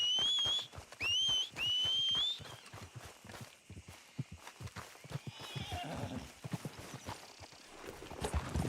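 Horse hooves clip-clopping in the Red Dead Redemption 2 game, rapid rhythmic hoofbeats with whistled calls and a whinny at the start, continuing at moderate distance.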